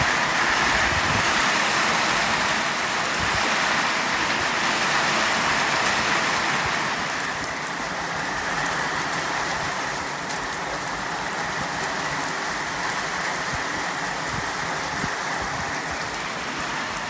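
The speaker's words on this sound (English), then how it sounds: "This is actually nice rain to walk in or to shower in." Rain falls heavily outdoors during a walk, a loud, broad wash of drops close by that holds steady throughout and eases only slightly toward the end.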